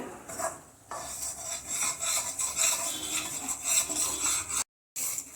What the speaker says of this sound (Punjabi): ਬੇਸਨ ਨੂੰ ਮੈਂ ਲੋ ਫਲੇਮ ਤੇ 4-5 ਮਿੰਟ ਹੋ ਗਏ ਸੀ ਮੈਨੂੰ ਬੇਸਨ ਭੁੰਨਦੇ